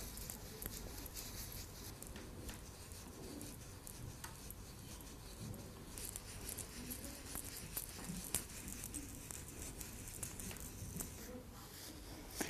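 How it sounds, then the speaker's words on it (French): Scrubbing of toenails and the underside of a foot during a cleaning routine, a steady wet patter and squishing rub that runs close and continuous with small bursts throughout. "Et frottez les ongles et le dessous du pied."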